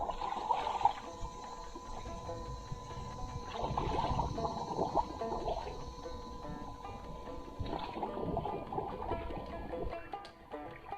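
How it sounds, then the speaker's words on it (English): Someone swims in an outdoor pool, giving a faint, continuous wash of water splashing and gurgling for several seconds, with light ambient noise. "and I'm swimming."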